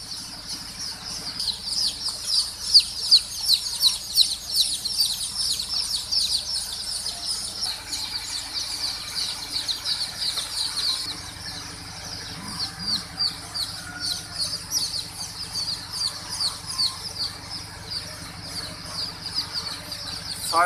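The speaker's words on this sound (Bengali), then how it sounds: "একদিনের হাইব্রিড মুরগির বাচ্চা।" Day-old hybrid Sonali chicken chicks peep continuously in a brooding area, a dense chorus of shrill, rapid chirps that rises and falls in waves, with faint low rumbling underneath.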